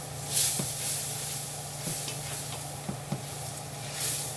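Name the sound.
stirring onions and garlic mixture in hot pot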